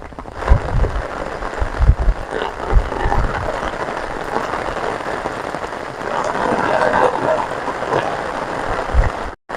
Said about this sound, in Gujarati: અત્યારે એવો વરસાદ વરસી રહ્યો છે ને કે વાત દાવા જેવો તમે જોઈ શકો છો વરસાદ